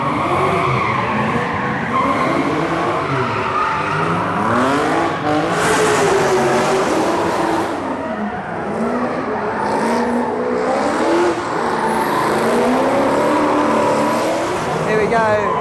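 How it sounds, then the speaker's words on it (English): Cars running on the track at the Summernats car show in Australia, with loud continuous engine roar, revving and tyre squeal at close range, under crowd noise and people talking throughout. "we got some cars out on the track, so let's go and suss that"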